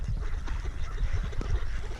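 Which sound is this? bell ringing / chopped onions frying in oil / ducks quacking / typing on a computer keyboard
ducks quacking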